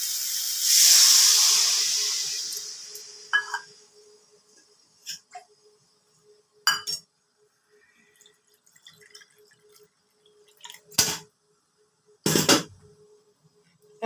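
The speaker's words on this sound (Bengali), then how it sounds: "এবার এক বাটি জল দিয়ে দিচ্ছি ঝোল হিসাবে" Water from a bowl hits a pan of fried spice paste for a rohu fish curry, giving a loud steaming hiss that fades over a few seconds, then a few brief sizzles and pops follow.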